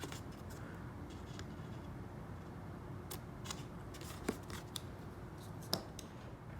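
Small scissors snip paper flaps for a wall hanging craft, quiet scattered clicks and cuts at an irregular pace, with a few sharper snips standing out over faint room noise.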